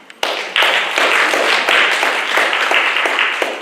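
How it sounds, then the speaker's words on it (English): An audience at a school district's State of the District Address bursts into applause after a brief quiet moment, then sustains dense, close clapping at a steady level until the end. "Y'all can clap for that"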